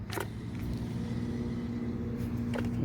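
An aging radiator fan on a 1998 Jeep Cherokee spins with a steady low hum and faint rumble, moderately quiet and continuous, with a couple of brief higher clicks or rattles.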